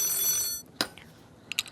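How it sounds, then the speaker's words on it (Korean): A telephone rings indoors with a bright electronic trill that cuts off after about half a second, followed by a few faint clicks of the handset being picked up, with no speech. "전화 걸려오니까"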